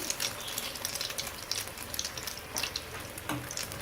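French toast sizzles in a hot pan as it browns on the second side, giving a soft, steady crackle with scattered pops and no talking.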